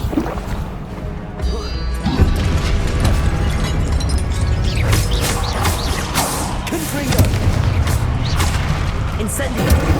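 An Incendio fire spell in Hogwarts Legacy roars as a sustained, loud burst of flame, with heavy low rumbles and thuds swelling near two and seven seconds amid busy game noise.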